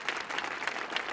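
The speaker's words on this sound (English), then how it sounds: "Please give him a round of applause." Brief burst of audience applause for an accompanist at a cabaret concert, dense steady clapping filling the moment, fairly loud and with no voices over it.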